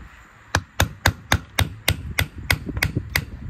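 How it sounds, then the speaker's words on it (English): A hammer strikes a stuck, carbon-fouled part on a Mazda CX-5 Skyactiv diesel engine, landing about a dozen sharp, evenly spaced metallic blows up close before trailing into lighter knocks. "Usually it is stuck, so you need to hit it with a hammer."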